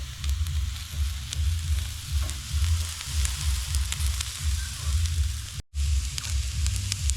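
Chicken sizzles and crackles steadily in a hot pan during stir-frying with pepper, salt and chili flakes, a loud continuous frying hiss with rhythmic stirring scrapes and a brief dropout near the end.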